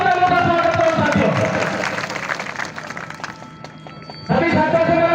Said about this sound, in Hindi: जोरदार तालियों का स्वागत करो साथियों